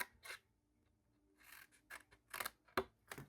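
Scissors snip through paper at an angle while trimming pieces for a stamped card, several short crisp cuts close up in a quiet room.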